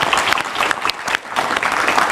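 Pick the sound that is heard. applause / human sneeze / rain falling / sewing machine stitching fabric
applause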